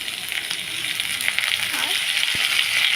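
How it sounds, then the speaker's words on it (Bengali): Onions fry in a pan with a steady, close sizzle and crackle, broken by a sharp clack of a utensil near the end. "তো পেঁয়াজটা ভাজা ভাজা হয়ে গেছে।"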